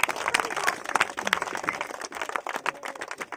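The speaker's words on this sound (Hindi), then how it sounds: "जोरदार तालियां होनी चाहिए।" Scattered, uneven hand clapping from an outdoor crowd at a cricket tournament prize ceremony, sharp individual claps overlapping in a loose, irregular rhythm, moderately quiet and fluctuating throughout.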